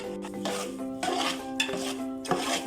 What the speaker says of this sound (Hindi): अच्छी सी से इसको मिक्स करेंगे ताकि ऑयल इसमें जज्ब हो जाए।